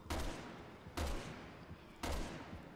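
Gunfire in the video game Resident Evil 6: three loud, sharp shots spaced about a second apart, each bursting up and trailing off into a rumbling decay.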